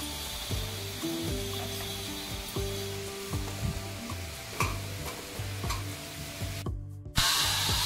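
A jaggery and coconut filling for karanji cooks in a pan, with a steady sizzle and repeated stirring scrapes and taps. A short cut near the end leads into a brighter hiss.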